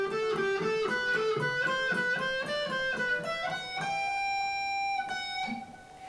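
An electric guitar plays a fast neoclassical diminished run, with rapidly picked notes climbing steadily in pitch before settling on ringing sustained notes, moderately loud with no speech.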